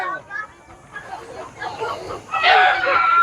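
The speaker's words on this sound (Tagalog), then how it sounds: "Maingay yung manok." A rooster crows nearby, loud and drawn out at the end, with people talking over the start.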